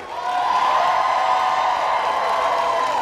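A large outdoor crowd at a women's march rally in Roanoke cheers and applauds steadily, a dense wash of clapping and shouting that swells and holds loud throughout.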